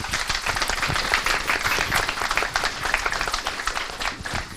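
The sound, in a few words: applause for the conference experts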